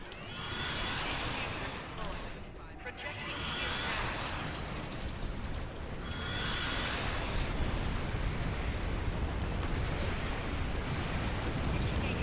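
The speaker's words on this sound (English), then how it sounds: "There's too many explosions." Repeated explosions in a video game, broad rumbling bursts swelling and fading every few seconds under continuous game noise, dense and chaotic, with someone talking over them.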